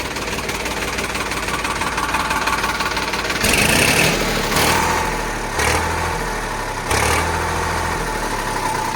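A Sonalika 745 tractor engine idles with a steady low knocking chug, then gets revved in several short bursts that swell louder and fall back to idle, heard close up with no talking.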